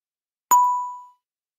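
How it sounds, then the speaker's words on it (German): Voicemail signal tone before a message can be recorded: a single clean electronic beep with a sharp onset, ringing for about half a second, alone in silence. "Sprechen Sie bitte nach dem Signalton."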